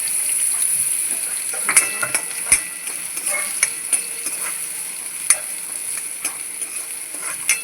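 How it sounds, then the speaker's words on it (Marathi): Chopped onions with garlic frying until browned, a constant bright sizzle with repeated spatula scrapes and clicks against the pan, no one speaking. "कांदा लाल करून घ्यायचा"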